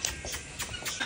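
Several short nasal quacks from ducks nearby, coming in quick succession over a brief moment.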